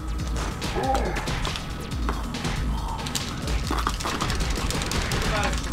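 Rapid-fire attack in the Spider-Man 2 video game on GameCube, a dense stream of thwacks, smashes and impacts running nonstop, with someone talking over it.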